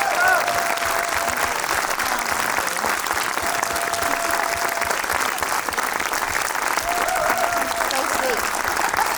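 Sustained audience applause at a film festival tribute event in Zurich, a dense steady clatter of many hands filling the hall for the full length, loud and even throughout, with a few faint whistles or cheers mixed in.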